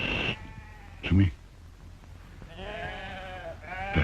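Goat bleating in a 1991 Indonesian film scene, several wavering cries at start, middle and end, mixed with and partly under a man's speech.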